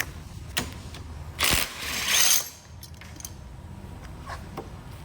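Ratchet with a 22 socket tightening a bolt on a Venom X19 200cc motorcycle, a few quick metallic ratcheting clicks in two short bursts, close and fairly loud, with small tool clinks around them.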